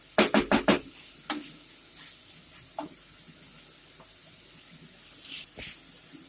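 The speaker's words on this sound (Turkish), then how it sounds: "Kaynar su dökeceğim üstüne." Boiling water from a kettle poured over sautéed peas in a pressure cooker: a quick run of sharp hissing bursts at the start, then scattered softer crackles and a final hissing swell.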